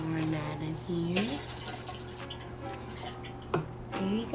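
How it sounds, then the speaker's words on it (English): Liquid B minerals nutrient is poured into a tower garden, a soft trickling and splashing of liquid with a few drips, heard beneath a person talking nearby. "Pouring that in here."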